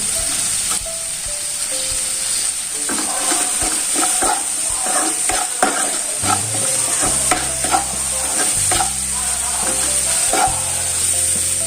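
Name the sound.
onions frying in oil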